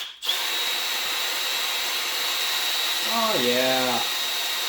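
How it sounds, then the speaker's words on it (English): A power drill bores a pilot hole through the hood of a Ford 4400 tractor, a steady loud whine running throughout, with a short spoken remark near the end. "so I'll start with a small hole, get a pilot hole drilled"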